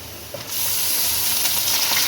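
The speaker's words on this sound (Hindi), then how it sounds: "गोश्त का कलर चेंज करने तक इसे ऑयल में फ्राई करें" Half a kilo of mixed beef pieces frying in oil with light golden onions for degi balti gosht, a loud, dense, continuous sizzle that swells after a brief quieter start.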